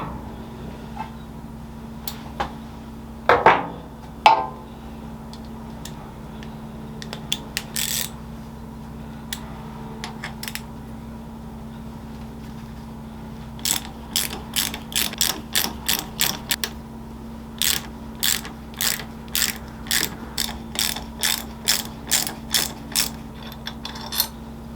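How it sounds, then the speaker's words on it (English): Ratchet tightening riser bolts on a 2021 Harley-Davidson Sport Glide during a 4-inch riser install, with a few scattered clicks at first, then long runs of quick, sharp, close-up ratchet clicks in steady bursts. "Let me get a ratchet on there."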